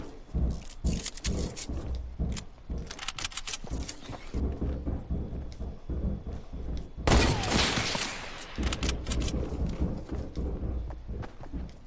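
Shotgun gunfire in a video game, a series of loud, punchy blasts spaced irregularly across the scene, mixed with clattering footsteps and a heavier burst of noise partway through.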